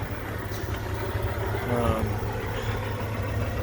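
A Cummins X15 diesel with 1850 torque and an Allison 4500 transmission idles in a 567 day cab truck with a set-back axle, a steady low hum running under a voice.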